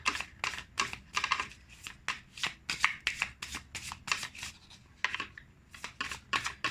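Tarot cards are shuffled close by in quick, rhythmic bursts of crisp papery slaps and riffles, steady and continuous with no talking.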